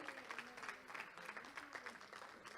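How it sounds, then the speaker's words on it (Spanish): A church congregation applauds steadily, a dense, continuous wash of clapping from many hands with a murmur of voices mixed in, sustained at an even level throughout. "Si le va a dar el aplauso, déselo fuerte al Señor."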